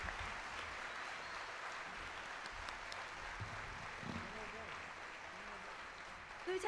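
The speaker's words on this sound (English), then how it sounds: "Please, another round of applause for these students and the teachers." Audience applause fills a school complex closure ceremony in Seoul, a steady, even wash of clapping from a large crowd held at moderate distance, with faint voices underneath.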